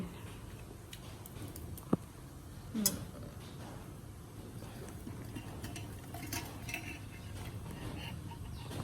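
Egg fried rice is stir-fried in a pan with a steady, soft sizzling hiss, punctuated by occasional faint clinks and a couple of sharper scrapes of a utensil against the pan.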